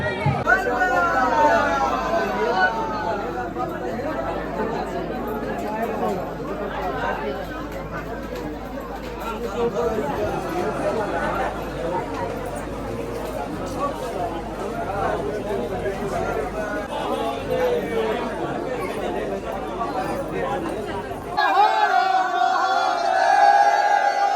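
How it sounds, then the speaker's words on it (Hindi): Dense crowd chatter from a long queue of pilgrims at the Basukinath temple, with many voices babbling close and far in a steady, noisy hubbub. "दर्शक बंधु अखन हम भीड़ में छी और बहुत लंबा पंक्ति है।"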